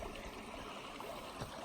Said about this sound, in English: Take water from the Nirvana stream.